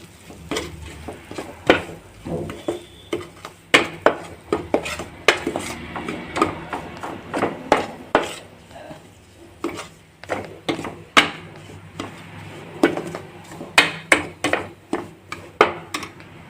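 Rice flour halwa (pithaguri) stirred in a pan, with a spoon scraping and knocking against the metal in a steady run of sharp, close clicks and clatters over a soft scraping bed.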